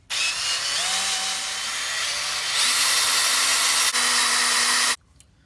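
A power drill whines steadily for about five seconds, its pitch stepping up partway through as it bites into a broken hardened steel bolt, then cuts off abruptly.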